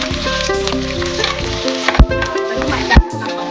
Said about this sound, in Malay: Mak Eka akan goreng dia punya cili dia dengan bawang putih, bawang merah